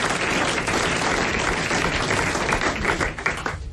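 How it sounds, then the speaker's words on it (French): Studio audience at a 1989 French radio quiz show applauding loudly and continuously, a dense wash of many hands clapping steadily for several seconds with no voices. "Vous applaudissez les grosses têtes."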